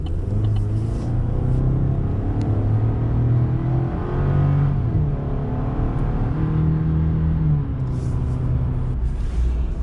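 A 2019 Chevrolet Silverado LT pickup with a turbocharged four-cylinder engine accelerates hard to pass, its steady rising engine drone and rumble heard from inside the cab with no talk.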